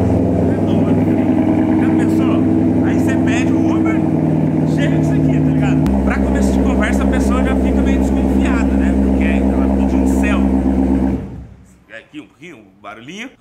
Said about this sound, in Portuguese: Chega um Corvetão desse, ó. Ó o barulho do negócio, ó.